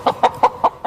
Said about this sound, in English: by deciphering chicken language and in turn their needs